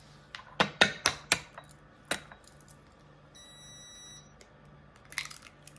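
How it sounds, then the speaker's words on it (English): A home oven sounds a steady electronic beep tone while preheating to 350 degrees, a short series of high pitched tones midway, amid clattering kitchen knocks and bangs near the start. "That is my oven preheating to 350 degrees"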